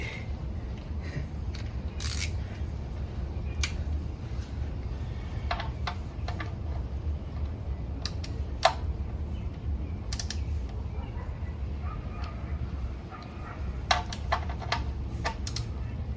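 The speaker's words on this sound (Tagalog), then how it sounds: "Ratchet" Ratchet clicking in short irregular bursts while wheels are changed during a DIY tire change and oil change, with scattered metallic ticks over steady low background rumble and no talk.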